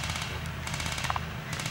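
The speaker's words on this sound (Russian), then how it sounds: "Вот этот хлопок, это выстрел" A sharp gunshot crack cuts through steady outdoor background noise during a milsim airsoft game, fired at a team vehicle under attack; a couple of brief pops land close together in the middle, with no talking.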